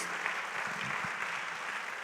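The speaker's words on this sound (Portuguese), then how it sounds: "Você pode aplaudir o Senhor?" A church congregation in Braga applauds during a sermon, a dense, even wash of clapping from many people that holds steady throughout, fairly loud and filling the room.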